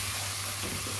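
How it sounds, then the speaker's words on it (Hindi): Spice masala fries in a pan for a gobi gosht curry, producing a close, continuous sizzle with a little stirring over one second, and no voice. "यहाँ पे इस मसाले को हमने अच्छी तरह से भून लिया है।"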